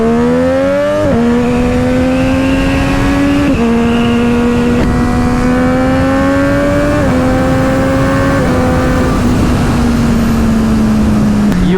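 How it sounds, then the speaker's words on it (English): A Triumph three-cylinder motorcycle engine revs hard and loud, pitch climbing in several long pulls with sharp drops at each gear change, alone without talk. "You have no idea how a triple engine sounds until you actually ride one for yourself."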